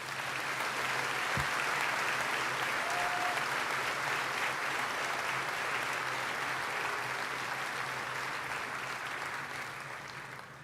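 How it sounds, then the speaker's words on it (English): Long, even applause at a community college commencement ceremony for honors graduates, a large crowd clapping steadily in a big space for about ten seconds and easing slightly toward the end. "Please join me in a round of applause for all of our honors student graduates."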